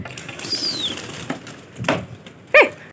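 Pigeons flap their wings as they take off in a home loft, short soft bursts of fluttering near the microphone with a louder flurry toward the end.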